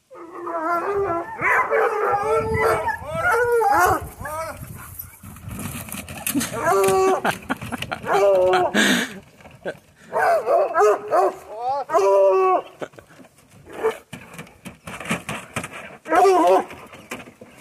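A dog howls and yips in drawn-out, wavering bursts, loud and close, with short gaps between cries and some talking around it.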